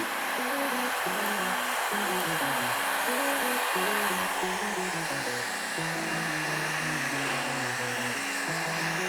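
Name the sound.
heat gun heating windshield tint film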